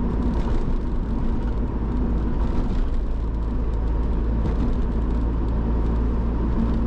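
Honda Prelude driving uphill, a constant low engine drone and road rumble heard from inside the cabin, loud and steady with no talk over it.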